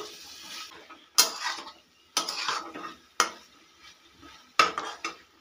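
A spoon stirs black pepper powder into a dry bean and potato curry in a pan, four or five sharp scraping strokes with clinking against the pot, separated by short pauses, close and clear with no talk.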